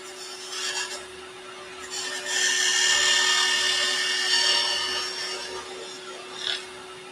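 A wood lathe turns a piece of jewellery while a skew chisel cuts it, making a hissing, rasping scrape that swells in the middle and eases off, with brief sharper catches.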